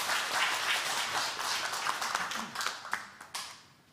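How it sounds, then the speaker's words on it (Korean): Church congregation applauding during a Sunday sermon, a dense burst of clapping that fades toward the end into a few scattered claps, with a voice speaking over it. "박수 한번 쳐주세요."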